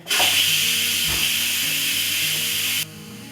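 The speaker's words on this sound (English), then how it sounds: "We're gonna go ahead and release the steam." Steam blasts from a pressure cooker vent during a quick release, a loud, steady broadband hiss that starts abruptly and holds continuously for nearly three seconds before cutting off.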